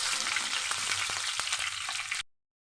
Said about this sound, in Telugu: ఉల్లిపాయ ముక్కలను వేసి వేయించుకోవాలి.